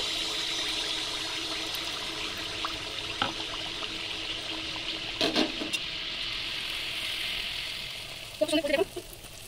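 Adosha pitha batter sizzles steadily in hot white oil in a wok, a continuous mid-level fry with a few brief bubbling bursts and spatters near the end.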